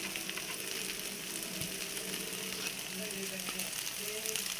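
Egg fried rice sizzles and fries in a hot pan as two spoons of chili powder go in, a steady moderate crackle with light clinks of utensils and no talking.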